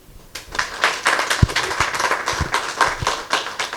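Audience applauding at a convention signing ceremony in Togo, a steady wash of many hands clapping with scattered louder claps, close and continuous throughout.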